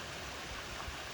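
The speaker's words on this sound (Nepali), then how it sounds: "यो प्रकृतिमा बगिरहेको छ पानी।" Natural spring water flows outdoors on a quiet rural route in Nepal, a soft continuous rush and gurgle at low level with no talking, heard briefly.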